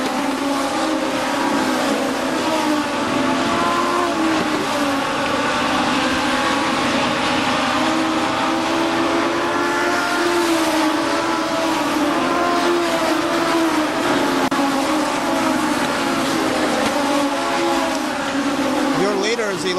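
Race cars roar around KilKare Speedway in a continuous, loud, dense engine drone that rises and falls as the pack passes, with an announcer's voice talking over it.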